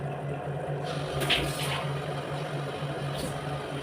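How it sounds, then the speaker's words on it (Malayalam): Two cups of water are poured into fish curry masala in a pot, making a steady, close rushing splash over a faint low hum, with no voices. "രണ്ട് കപ്പ് വെള്ളം നമ്മൾ ഒഴിച്ചു"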